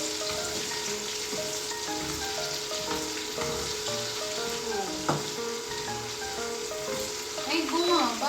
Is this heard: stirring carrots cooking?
yes